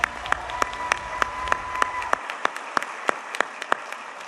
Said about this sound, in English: One more round of applause for Angela Arthur.